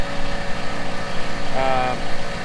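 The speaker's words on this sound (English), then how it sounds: "despite how ugly this tractor looks right now, it starts and it runs really good" An International Harvester 4366 tractor with a DT 466 diesel engine from a 1993 International truck runs steadily up close, a continuous rumbling idle with a brief higher tonal whine partway through.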